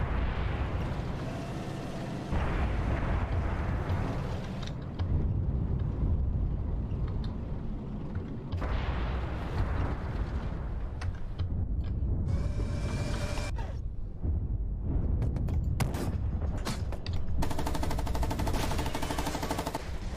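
Tank combat in the game GHPC, with cannon fire and a shell striking a target; loud, dense bursts of gunfire and heavy booms roll over a constant engine rumble, with no voices.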